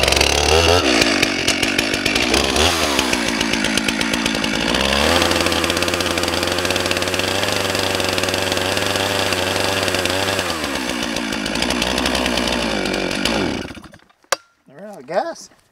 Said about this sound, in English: I'm just gonna get my chainsaw and just try to notch a little notch out